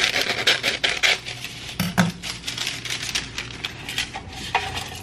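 Parchment paper is cut in half in a kitchen to line a banana bread pan, giving a run of crisp snips, rustles and light crinkling taps that come close and distinct, with no talk.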